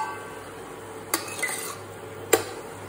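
Metal utensil scraping and clinking against a pot while stirring dried white chilies with fermented soybean for Bhutanese ema datshi, two sharp clanks standing out over a quiet kitchen background.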